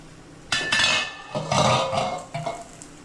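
Metal pot lid lifted and set down while murukku vathal cooks, producing a few clattering clinks and scrapes of metal against metal, close and fairly loud.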